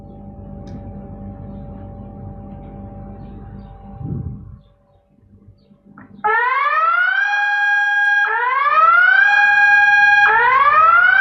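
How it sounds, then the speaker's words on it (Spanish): An emergency evacuation siren at a solar thermal power plant sounds after a quiet stretch of background noise, rising in loud repeated sweeping wails that keep climbing and restarting, close and dominant. "Esa sería la sirena que nos está indicando que debemos apartarnos y alejarnos de la instalación."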